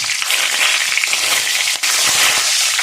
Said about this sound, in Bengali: এবার এই গোটা গরম মশলাগুলো ফোড়নে দেবো, শুকনো লঙ্কা দেবো, তেজপাতা দেবো